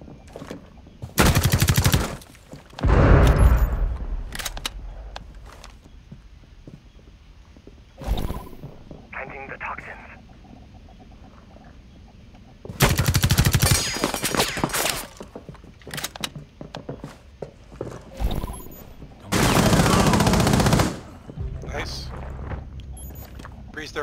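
Loud bursts of gunfire in the video game Rainbow Six Siege, several separate volleys of rapid shots a few seconds apart, with quieter clatter between them and people talking.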